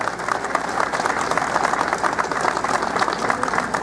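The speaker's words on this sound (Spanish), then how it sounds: "para quien le pido fuerte las palmas hoy en esta mañana" Dense, loud applause fills the hall at a regional authorities' swearing-in ceremony in Lima provinces, a continuous wash of many hands clapping without pause.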